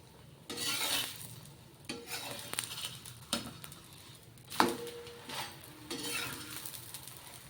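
Spinach pudla cooking in a pan over a medium gas flame, with a soft sizzle under intermittent bursts of stirring and scraping, fairly close and moderately quiet, no voices.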